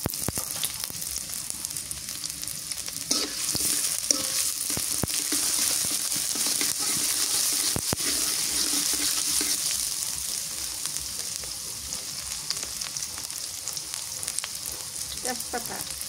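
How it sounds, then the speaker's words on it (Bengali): Chopped onions fry in a pan with a steady, dense sizzle that holds for the whole stretch, broken by a few light clicks and scrapes, and no voices over it. "পেঁয়াজ কুচি দিয়ে দিই"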